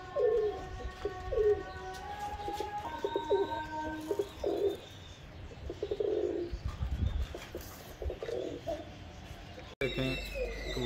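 Jaldar pigeons in a breeder setup coo repeatedly in soft, throaty bursts, with chirps and rustling around them and a person talking in the background.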